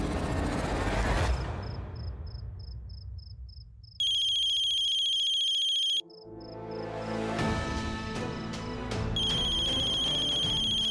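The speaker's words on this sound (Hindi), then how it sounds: "ये पक्का कोमल का फोन" A phone ringtone plays as a repeating electronic melody with sustained beeping tones and bursts of music, loud and alone with no voices.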